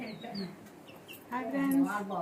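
Soft clucking from chickens and chicks, brief and close, with a louder burst near the end; people talk faintly in the background.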